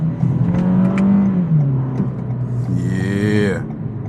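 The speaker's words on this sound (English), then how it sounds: "I just want to hear these downshifts" A 2023 Toyota Camry SE engine revs up and then drops in pitch on a downshift, with a loud, close drone inside the cabin and a brief rising whine near the end, and no talking.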